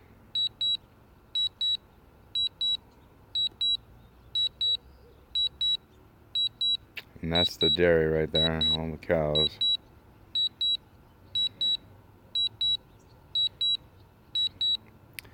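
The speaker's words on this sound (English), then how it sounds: "I can't control that beeping. It's annoying, I know. Just means it's pinging to get back over here." A DJI Mavic drone gives out regular sharp electronic beeps at a steady pace while flying back to its pilot. Someone talks over the beeps for a short stretch partway through.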